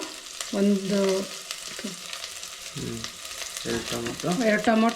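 Chopped onions and tomatoes fry in a pan for a pepper chicken dish, with a steady close sizzle and stirring noises running beneath intermittent bursts of a voice.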